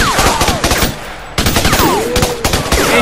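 Rapid automatic gunfire in a jungle firefight in the video game Raven Squad, loud close bursts of shots in quick succession with a brief pause midway, then continuous firing resuming.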